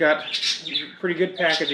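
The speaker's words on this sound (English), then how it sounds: "Please pardon the birds here; they're kind of noisy today." Noisy birds squawking and chirping outdoors, under and between a man's speech as he unboxes a camera lens.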